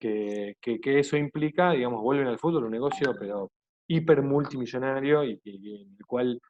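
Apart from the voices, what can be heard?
None of the usual background noises is heard.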